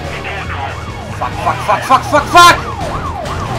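Police car sirens in the video game Need for Speed Most Wanted wail in rising and falling sweeps over a low engine drone during a chase, with a player's loud exclamation cutting in partway through.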